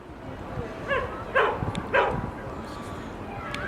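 A few dogs at a city dog run during the 2015 NYC blizzard give short yips and barks, three or four spaced calls at moderate distance over snowy outdoor ambience.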